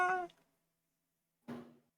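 A house cat named Icarus gives two short, close meows separated by a second of silence, the first clearly pitched and harmonic, the second rougher.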